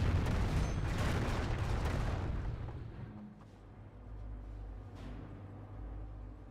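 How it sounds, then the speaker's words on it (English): A Calliope rocket barrage in the World War II strategy game Company of Heroes: a dense rumbling volley of blasts that swells over the first seconds, then fades to a lower, softer rumble with a few scattered later pops. "Calliope Rocket Barrage running on in"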